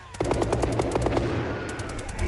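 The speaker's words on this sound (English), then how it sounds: "the screams and gunfire seem to extend for an eternity" A burst of rapid automatic gunfire, a fast regular string of sharp cracks firing for about a second and a half, then sparser scattered shots trailing off, loud and close with no speech.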